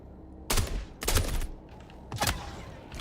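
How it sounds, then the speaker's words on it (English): Sniper fire in the Star Citizen video game: three sharp, loud shots with short echoing tails, spaced roughly half a second to a second apart, amid faint background game sound. "Shit, something just sniped me"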